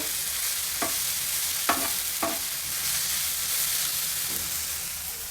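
Tempering for street-style spot idli fries on a hot tawa, giving a loud continuous sizzle and hiss broken by a few sharp spatula scrapes.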